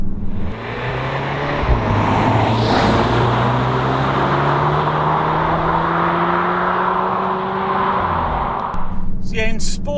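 A 2021 Cupra Formentor VZ2 performance compact SUV in sport mode with a DSG gearbox, its engine note climbing steadily through the gears from inside the cabin with quick shifts, loud road roar throughout and a voice speaking briefly near the end.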